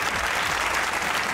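A studio audience on the Hasna Mana Hai comedy talk show claps, a dense, even wash of applause at moderate loudness that holds steady throughout without talk.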